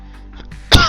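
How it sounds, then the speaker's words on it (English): A single short cough bursts out near the end, close and fairly loud, after a moment of quiet room tone with faint murmuring. "Oops, sorry about the cough."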